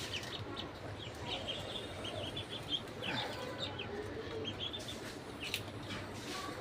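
Ducks on a farm quack and call faintly and steadily in a dense overlapping chorus, with a few sharper calls standing out against a constant low background murmur.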